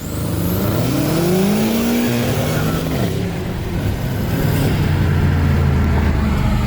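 A BMW M5 Competition sedan accelerates hard toward redline, a loud, close engine roar whose pitch climbs steeply through the gears in a continuous, unbroken rush.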